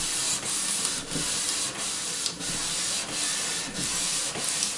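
Fine-grit sandpaper rubs steadily across a wooden surface in a continuous hiss, with short regular pauses between strokes, close and alone.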